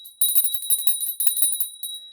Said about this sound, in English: Now I'm going to ring a bell.